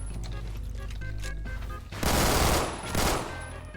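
Gunfire from the Phantom Forces shooter game crackles in two loud bursts over a steady background of game music and noise.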